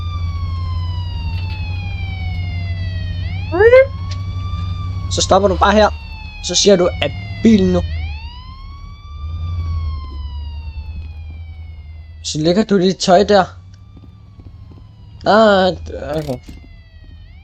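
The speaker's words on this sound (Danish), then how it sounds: "Jeg skal lige sætte sirener på" Police car siren in the video game Rec Room, a steady wailing tone sweeping up and down over a low engine hum throughout, with several stretches of talking over it.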